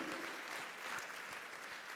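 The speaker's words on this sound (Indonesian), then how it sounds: "Tepuk tangan bagi dia dulu" A church congregation gives steady, moderately quiet applause, many hands clapping evenly in a large room with a faint murmur underneath.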